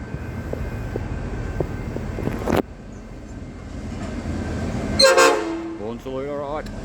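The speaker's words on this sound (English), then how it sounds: "Horn salute, alright." A freight steel train passing through Mordialloc Station in Australia gives a horn salute, with two loud sharp horn blasts alone after a softer rail rumble, the second blast wavering and fading.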